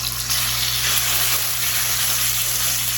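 Steady, loud sizzling of pork tenderloin searing in a hot skillet, a continuous crackling hiss with no voices.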